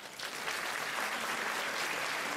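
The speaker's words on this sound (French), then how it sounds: "Bernadette et Jean-Claude Gann, on peut les applaudir." A steady burst of clapping from a crowd at a local pageant, continuous and fairly even, filling the whole moment without any voices.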